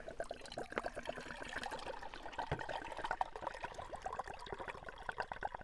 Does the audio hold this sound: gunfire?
no